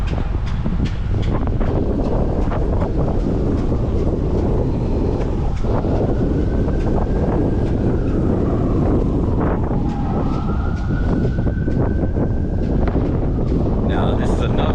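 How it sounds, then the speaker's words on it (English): Strong wind roars across the microphone on a city street in Montgomery, Alabama, a loud, continuous buffeting rush with faint tonal hums from traffic underneath. "That wind is really picking up."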